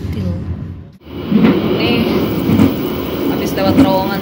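The Jaka Tingkir passenger train, mild steel coaches, rumbles steadily along the rails with a loud, continuous roar and faint rhythmic clatter, a brief dip early on, and talk mixed in.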